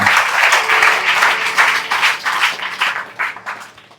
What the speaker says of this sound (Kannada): ನಿಮ್ಮೆಲ್ಲರ ಜೋರಾದ ಚಪ್ಪಾಳೆಯೊಂದಿಗೆ ಆರಂಭವನ್ನು ಮಾಡೋಣ